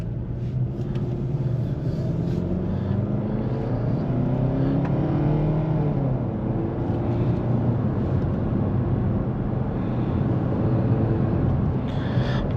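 A 2024 Hyundai Tucson SEL with a 2.5L naturally aspirated inline-four and FWD drives along, its engine a steady buzzy hum with mild pitch swells over road and tyre rumble, and no talk.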